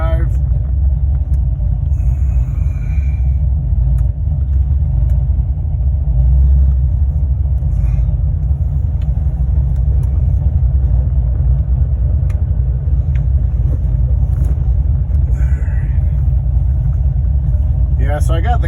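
C6 Corvette with a heads/cam LS3 V8 cruising on the road: a loud, deep, continuous exhaust rumble heard from inside the car, holding steady with only small swells in throttle.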